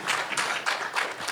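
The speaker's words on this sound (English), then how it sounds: "I'm going to applaud." A few people applaud at a Comic Con panel in Los Angeles, a short burst of close, brisk clapping with a quick, uneven rhythm.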